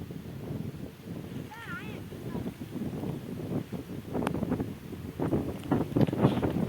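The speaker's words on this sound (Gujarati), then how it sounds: "કેટલો પવન હે તો એ ઉપર ચડી જાય." Wind gusts across an outdoor farm field, rumbling into the microphone with uneven rises and falls while people talk over it.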